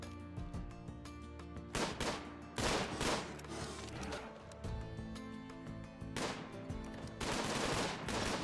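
Gunfire in RimWorld video game combat: several sharp bursts of shots and rapid rattling volleys come in clusters, with quieter ringing gaps between them and no talking.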